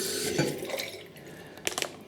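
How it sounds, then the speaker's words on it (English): Hot tap water runs steadily over the top and bottom caps of a shaving razor as they are rinsed, with a few small clinks and splashes near the end; no one speaks. "Rinse the top cap and the bottom cap as well."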